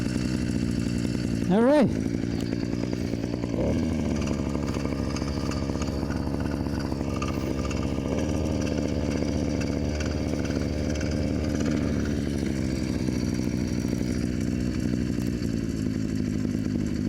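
A Yamaha YD100 motorcycle engine fitted with a Phantom 85 exhaust idles steadily and close, after a brief rev at the start. It holds a low rumbling drone, and someone speaks briefly over it.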